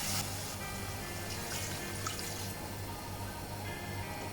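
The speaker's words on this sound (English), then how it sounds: "Now I'm going to add 2 cups of water in this." Two cups of water are poured into a cooking pot of mutton for daal gosht, a quiet, steady splashing and trickle with brief louder bursts and no talk.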